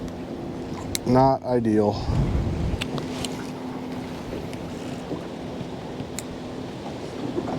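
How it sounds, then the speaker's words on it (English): Strong wind buffets the mic aboard a small fishing boat pushed toward the bank, a steady broadband roar running throughout, with someone talking briefly near the start. "The wind's blowing us around so hard, it's really dragging that bait on the bottom."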